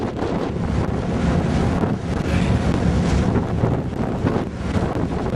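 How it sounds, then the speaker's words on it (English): Strong wind roars steadily across a ship's deck off the Dover coast of England, a dense continuous buffeting rush that fills the clip with no voices. "It's a little windy up here."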